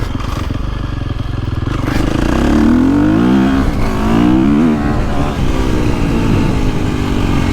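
A KTM 350 dirt bike engine revs loud and close, its pitch climbing and dropping through a couple of throttle blips over a steady rough idle.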